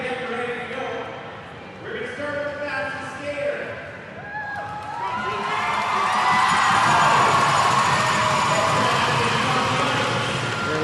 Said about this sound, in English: Lots of crowd noise in here.